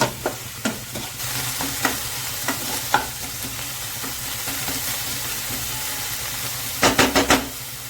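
Radish greens fry in a pan while being stirred, a constant hiss and sizzle broken by scraping stirs and a quick cluster of spoon clatter near the end, close and with no voices.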